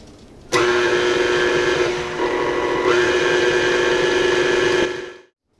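A stand mixer in a home kitchen runs steadily on low speed, stirring flour into cookie dough for cherry chocolate kiss cookies, with a loud, sustained motor whir that dips briefly midway and stops at the end.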